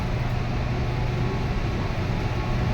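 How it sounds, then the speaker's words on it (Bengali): Steady low rumble and hum inside a stationary Kolkata Metro train carriage waiting at Howrah station, a continuous even drone of onboard machinery with no voices. "আমরা মেট্রোতে বসে পড়েছি"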